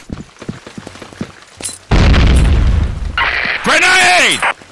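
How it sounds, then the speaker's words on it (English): A grenade detonates in a Counter-Strike style shooter, a loud sudden boom that rumbles for about a second after some lighter clicks, followed by bright ringing effects, with voices around it. "Grenade!"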